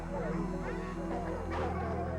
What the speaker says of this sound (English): as the baying dogs turned toward him